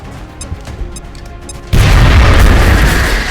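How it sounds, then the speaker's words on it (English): An HE grenade explodes in the video game XCOM Enemy Within: a few quiet taps, then a sudden loud, sustained boom that rumbles on to the end. "Throwing grenade."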